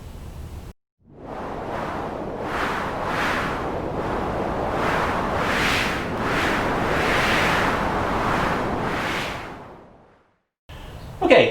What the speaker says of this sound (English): So this was that day we had the crazy wind.